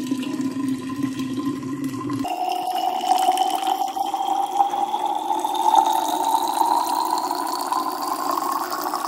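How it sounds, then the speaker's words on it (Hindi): Water runs steadily into a 2-litre room water bottle, the pitch rising gradually as the bottle fills, close and continuous throughout. "तो मेरे रूम वाली बॉटल है ये पूरी 2 लीटर की, तो इसको भर देती हूँ"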